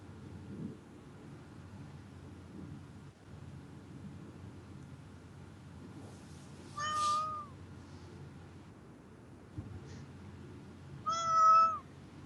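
A cat meows twice, each call loud and close, standing out over a steady low room hum with a pause between them.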